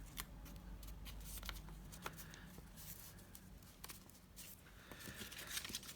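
Paper is folded and creased by hand for a journal embellishment, close, soft crinkles and rustling taps scattered irregularly over a quiet background.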